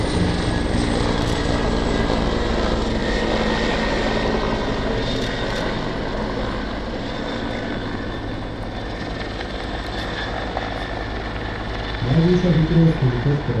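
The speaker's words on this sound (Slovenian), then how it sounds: "Bell-412 je večnamenski helikopter" A Bell-412 multipurpose military helicopter at a Slovenian Army exercise, a steady, loud engine and rotor drone that runs throughout, with a deeper rumble swelling near the end; a voice speaks over parts of it.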